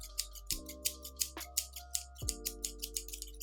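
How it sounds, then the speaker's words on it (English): Metal scissors snip together repeatedly, a quick irregular series of crisp, close clicks and shears with a faint steady hum underneath. "No, I'm snipping scissors together."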